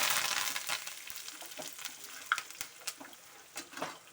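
Peanuts, roasted chana and curry leaves fry in hot oil with a constant close sizzle, broken by light scraping and stirring clicks throughout.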